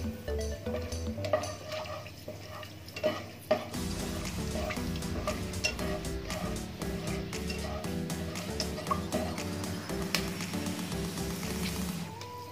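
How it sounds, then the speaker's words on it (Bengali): Whole garam masala spices frying in white oil in a kadai for a biryani: a steady, busy sizzle with stirring sounds, partly mixed with tonal, music-like layers. "মশলাটাকে একটু ভাজা ভাজা করে নিই"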